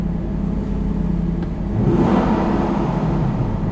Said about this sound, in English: That's the V8 sound. And rev.